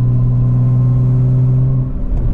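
A 700HP single-turbo BMW 335i with a race exhaust holds around 2200 RPM, giving a loud, steady, droning rumble heard close up from inside the car, easing slightly near the end.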